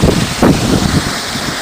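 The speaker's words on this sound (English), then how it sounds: "we got some nice winds down here" Wind blowing outdoors at night around a Savonius-type wind turbine, a steady broadband rush with a gust swelling early on, fairly loud and continuous with no talking.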